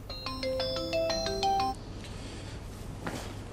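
A phone rings with an incoming call, a bright repeating electronic ringtone melody that plays loudly for under two seconds, then cuts off, leaving quiet room tone with a faint rustle.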